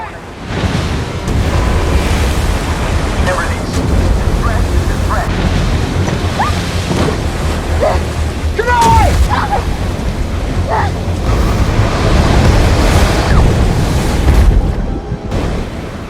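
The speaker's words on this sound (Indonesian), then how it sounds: "Mason yang berada di dalam rumah tidak sengaja melihat dari jendela kalau kapal paman Jessie sudah tergulung ombak" Stormy ocean waves and gusting wind roar loudly and continuously around a boat being overturned at sea, with faint voices and scattered tonal sounds mixed into the heavy surf noise.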